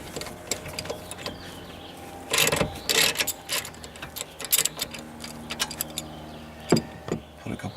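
A ratchet loosens a bolt on a roll bar bracket of a Jeep JK Wrangler, with quick bursts of close metallic clicking over a low background hum.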